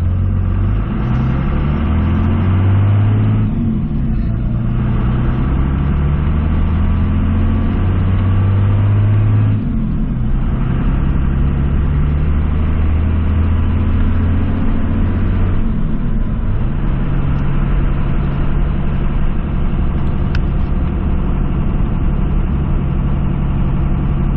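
A Dodge Ram pickup with a Cummins turbo diesel engine pulling away empty without using first gear, a loud steady drone with clear gear-change dips and climbing revs, heard close up with no talking.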